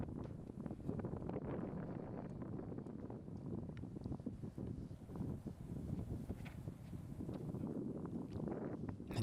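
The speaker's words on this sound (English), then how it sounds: "Wind was ripping here on this hole." Strong wind buffets the microphone on a disc golf course during a tournament round, a steady, loud broadband roar with gusty rustling throughout and no talk.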